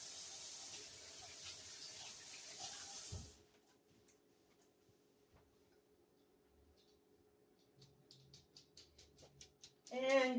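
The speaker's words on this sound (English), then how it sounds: "Let me give my hands a rinse real quick." A kitchen tap runs steadily for about three seconds as hands are rinsed, then cuts off, leaving a quiet room with faint clicks and a short clatter near the end.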